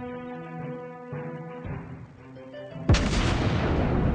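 Warship guns fire in the naval video game World of Warships Blitz, a single heavy booming blast after tonal game music, loud and close with a long rumbling tail.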